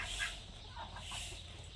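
A local laying hen clucks softly amid farmyard ambience, with short faint calls rising over a steady low background hum.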